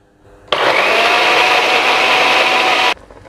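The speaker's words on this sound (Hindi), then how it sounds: "हमने ये सारा मसाला ब्लेंडर में डाल लिया है, अब हम इसको ब्लेंड करते हैं।" A kitchen blender whirs loudly for about two and a half seconds, starting and stopping abruptly, as it purees tomato and spice masala for a brain masala curry, with no talking.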